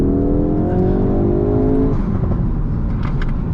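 A Ford Focus RS pulls hard along a country lane, its engine note climbing steadily through a gear before easing into a broad, loud road and wind roar, recorded close from inside the car.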